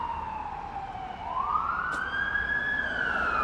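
A wailing ambulance siren rises and falls in pitch in Antalya, Turkey, heard at moderate distance over a low background rumble near demolished buildings.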